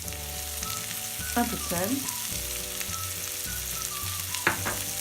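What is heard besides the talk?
onions sweating in butter in a frying pan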